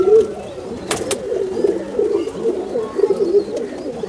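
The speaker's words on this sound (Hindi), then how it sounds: "साइज़ देखें कबूतर का कितना बड़ा है।" Domestic pigeons coo repeatedly in a steady, close, low murmuring run, with a brief sharp noise burst near the start and no speech.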